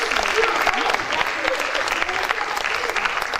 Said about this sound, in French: Je voudrais que vous les applaudissiez bien fort